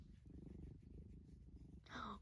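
Steady low rumbling purr from a cat close by, continuous throughout, with a brief brighter rustle near the end.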